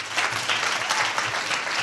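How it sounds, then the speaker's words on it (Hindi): A congregation claps for Sher Singh during a pastor's sermon, a short burst of dense, even applause lasting under two seconds. "हाँ, शेर सिंह के लिए ताली बजाओ।"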